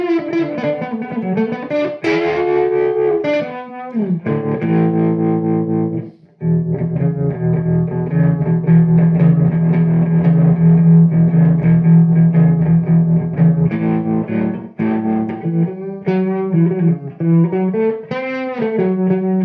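An electric guitar through a Lovepedal Blue Wave tremolo pedal plays sustained chords and bluesy bends, drenched in spring reverb with a pulsing tremolo wobble.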